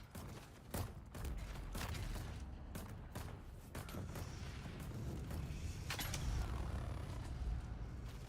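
Scattered gunfire in the Dune video game crackles as sharp, distant shots over a low rumbling background, irregular and fairly faint.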